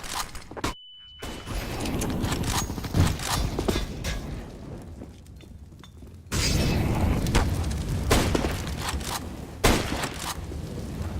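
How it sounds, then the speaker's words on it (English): A flashbang grenade goes off in the shooter game CS:GO with a sharp bang and a brief high ringing tone, amid the busy clatter of shots and effects of a match. "Throwing flashbang."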